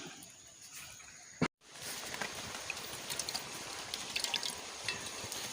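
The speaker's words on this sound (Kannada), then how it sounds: "ಈ ರೀತಿ ನಾವು ನೀರಲ್ಲಿ ಹಾಕಿದ್ದನ್ನು ಚೆನ್ನಾಗಿ ತೊಳಿಬೇಕು" Wild hog plums are washed by hand in a bowl of water, soft continuous sloshing with small drips and splashes, a brief bump and a short silence near the start, then steady quiet agitation of the water.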